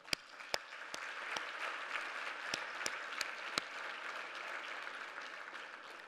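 Gala audience applauding, a quiet, steady patter of many hands heard from a distance, punctuated by several sharper nearby claps in the first few seconds.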